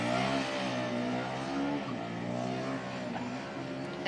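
A Formula Student race car lapping Silverstone through Copse Corner, its engine a continuous loud buzzing drone with shifting pitch as it rises and eases through the corner, held steady from start to finish.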